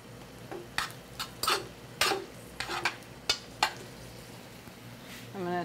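A big spoon stirs potatoes and green onion in a hot pan, a run of distinct scraping clacks against the pan at an uneven rhythm over a low sizzle, with a faint voice near the end.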